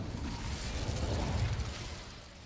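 A fiery spell bursts in a wizarding video game, a rumbling whoosh of flame with crackling pops that swells and then fades, with no talk.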